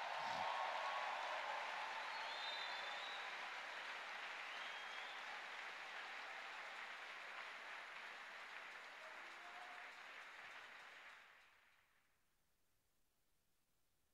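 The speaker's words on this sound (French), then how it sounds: "Est-ce que nous pouvons donner une bonne main d'acclamation au Seigneur?" A church congregation at a French-language sermon breaks into sustained applause, a broad even wash of clapping that holds steady before fading away near the end, leaving quiet room tone.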